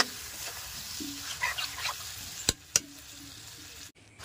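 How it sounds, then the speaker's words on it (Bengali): Chicken liver frying and being stirred in a pan, a steady low sizzle with two sharp knocks of the spoon against the pan near the middle, recorded close with no talking. "এবার আবার ভালো করে কষতে হবে অনেকক্ষণ ধরে"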